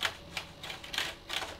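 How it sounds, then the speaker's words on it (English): A brush sweeping debris out of an upside-down computer keyboard, giving soft, quiet bristly scratches in short strokes roughly every third of a second. "turn the keyboard upside down and brush out the debris using, again, dusting brush number one"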